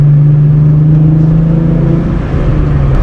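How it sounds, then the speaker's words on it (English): A manual-transmission car's engine hums steadily and builds slightly as the clutch comes off and the vehicle pulls away from a stop, a low continuous drone heard from inside. "Now clutch is coming off, gas is coming on, and I'm starting to drive again."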